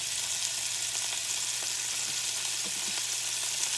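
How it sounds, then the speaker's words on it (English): Chunks of beef for stew sizzle steadily in a hot pan as they brown, a constant close frying hiss with a few faint clicks and no talking. "Just frying this ahead of time and getting it a good charcoal brown helps give your dish a good flavor."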